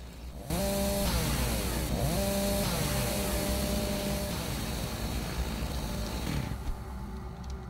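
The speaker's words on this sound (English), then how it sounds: "Well, I got chainsaw now." A chainsaw runs steadily in the video game Doom 3, a loud continuous engine buzz with repeated rising revs, close and alone for several seconds.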